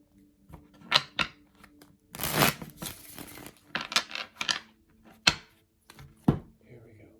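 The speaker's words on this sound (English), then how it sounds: "I'm going to give one more shuffle here." A tarot deck is shuffled up close in several quick bursts of crisp riffling and papery slaps, separated by sharp taps and short pauses.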